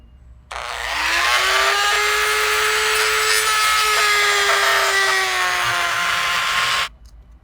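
A power tool grinds steadily against a Teflon washer being enlarged for a boat fitting, giving one continuous loud whining rasp with a slightly drooping pitch for about six seconds before stopping abruptly.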